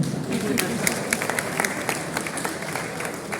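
A crowd applauding steadily, many hands clapping at once in a dense, sustained patter that neither builds nor fades.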